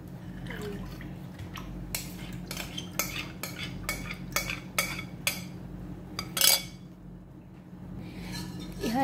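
A spoon stirring a cornstarch and condensed milk mixture in a bowl, a series of quick scraping clinks in uneven bursts against a low steady hum, fairly quiet.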